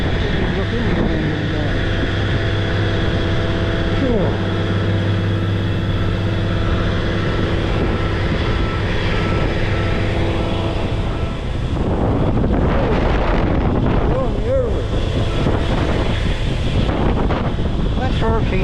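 Hurricane-force gusts near 59 mph pound the microphone in a loud, continuous roar that swells and buffets, building rougher and more turbulent in the last several seconds.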